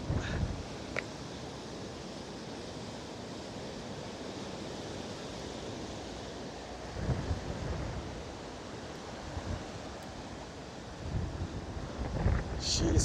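Strong coastal wind blusters across the microphone beside big waves breaking at Ponta Delgada on São Miguel in the Azores, a continuous roar with louder gusts swelling near the middle and toward the end.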